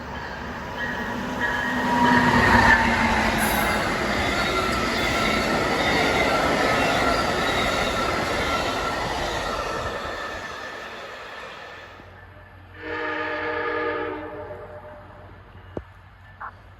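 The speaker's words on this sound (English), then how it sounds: "Amtrak 90 rolls northbound with the Charger leading the way." An Amtrak passenger train rolls northbound past a trackside spot in Spotsylvania with a Charger locomotive leading, a loud swelling rumble of cars and wheels that fades after about ten seconds, followed by a brief horn-like tone.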